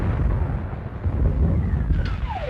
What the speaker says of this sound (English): That's a gun to the Second Army.